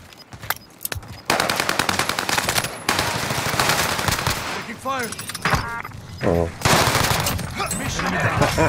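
Rapid automatic weapon fire in the Call of Duty video game, dense bursts of gunshots with brief gaps, loud and close, mixed with other game effects.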